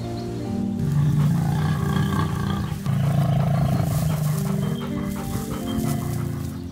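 Lions roar at the edge of a river, deep sustained rumbling calls rolling over one another in two long swells, loud and close, with no talking.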